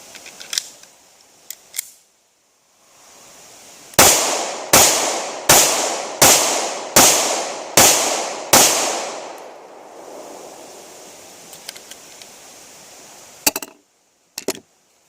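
A Smith & Wesson M&P 9 Shield pistol fires seven sharp, evenly spaced shots in a quick string outdoors, with a few fainter clicks and handling sounds before and after.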